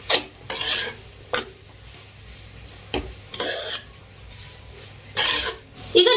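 Egg noodles and vegetables stirred in a pan with a utensil, street-style egg noodles: several separate scraping, rasping strokes with quiet gaps between them, close and alone.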